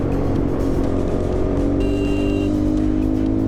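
Jawa 42 Bobber motorcycle running at speed in fourth gear, a steady, loud engine drone with rushing wind throughout and a brief whine from a passing vehicle partway through; no talk.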